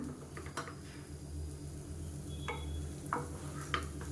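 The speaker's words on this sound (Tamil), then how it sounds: "கீழேருந்து அப்படி மேலே அப்பில் பரட்டிட்டு ரொம்ப போட்டு கிளற வேணாம். லைட்டாக ஒரு மிக்சிங் கொடுத்துக்கலாம்." Coconut milk biryani gets a light stir in a pot, a spoon scraping and scooping with a few distinct soft clinks and swishes over a quiet background hum.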